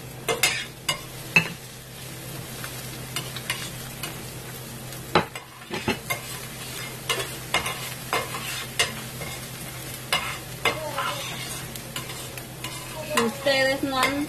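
Garlic and beans frying in a pan, stirred with a utensil, giving a soft continuous sizzle broken by repeated scraping and clinking strokes, close and clear with no talking.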